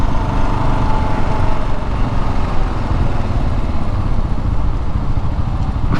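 A Kawasaki KLR 650 motorcycle engine runs steadily and loud up close, a continuous rough thrumming drone with no pauses.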